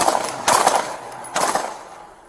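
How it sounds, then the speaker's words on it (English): Gunfire in police bodycam footage of a shooting, a burst of several loud shots followed by another cluster about a second later, close and sharp over a background hiss. "he jumps out and starts opening fire"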